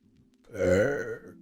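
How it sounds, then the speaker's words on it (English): One short, deep burp from a person, close and fairly loud, rising and falling over about half a second against quiet background noise. "Sorry for the burp."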